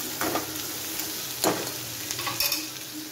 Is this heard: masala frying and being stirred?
yes